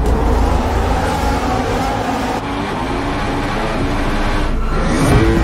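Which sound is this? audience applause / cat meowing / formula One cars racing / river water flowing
formula One cars racing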